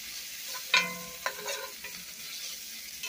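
Meat with taco seasoning cooking in a pan, a faint, steady sizzle with a few brief scrapes and clinks of a utensil stirring, close by.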